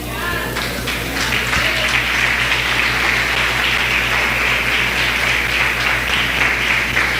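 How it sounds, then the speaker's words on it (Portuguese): A church congregation applauds through a celebration service, a steady, dense wash of many hands clapping that holds loud and even from start to finish, with faint voices blended in. "Se eu fosse você, eu aplaudia ele"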